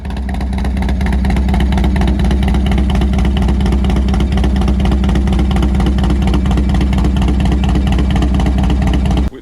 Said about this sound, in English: We have the 2-into-1 exhaust.